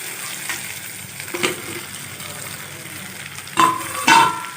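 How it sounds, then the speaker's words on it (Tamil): Okra being sautéed in a pan with onion and tomato gives a steady low sizzle, with a few soft stirring scrapes and two louder spatula clatters near the end, no voices. "இதையும் சேர்த்து கொஞ்ச நேரம் வதக்கிக்கலாம்"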